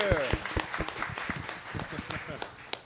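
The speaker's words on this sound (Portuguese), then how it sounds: "uma salva de palmas para vocês" Audience applause at a book launch for a comic about a flood, rising as a burst of scattered claps with a voice briefly over the start.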